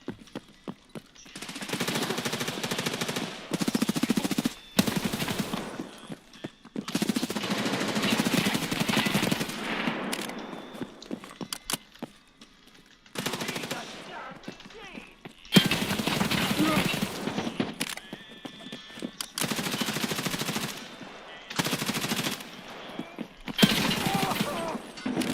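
Video game gunfire, heard as bursts of automatic fire in several separated stretches over roughly twenty-five seconds, with quieter gaps between them and speech mixed in at times.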